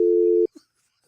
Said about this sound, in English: all of a sudden dial tone, bloop